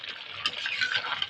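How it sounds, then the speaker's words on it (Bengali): Cooked rice for basanti pulao is stirred in a pot with a soft, close, continuous scraping and shuffling. "এইভাবে নেড়ে চেড়ে ভাতটা"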